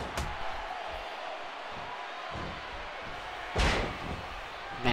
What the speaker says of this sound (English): And Punk viciously slams him to the mat.